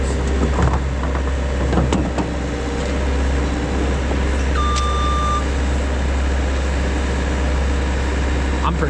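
A Mack R Model truck reversing into a parking spot, its engine rumbling low and steady, with a single brief beep standing out partway through.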